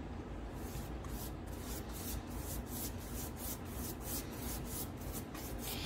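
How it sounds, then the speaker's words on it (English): A stiff bristle brush spreads oiling-out medium across the surface of an oil painting, making close, dry scrubbing strokes in a quick, regular back-and-forth rhythm, with no talk. "I'm going to use this bristle brush to first lay out this medium evenly on the painting"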